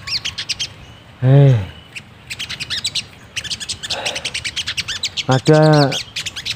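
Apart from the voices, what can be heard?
sogon birds calling outdoors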